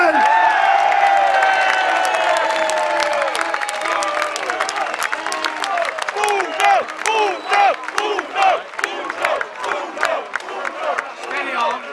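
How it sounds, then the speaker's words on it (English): A large outdoor crowd at a London freedom march cheers, whoops and applauds loudly and continuously, the dense roar breaking into rhythmic bursts of chanting and shouting toward the end. "Let's give a massive round of applause for Gerard the Bulldog Batten!"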